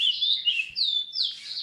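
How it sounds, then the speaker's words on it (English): Birds chirp loudly in the morning, a bright continuous run of high whistling, warbling calls close by with no talking over them. "Those birds are pretty loud this morning."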